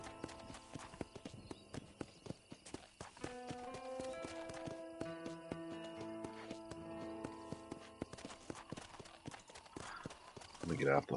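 Horse hooves clip-clop in a steady trot while riding in the video game Red Dead Redemption on PS3, accompanied by game music and sounds, with a brief whinny near the end.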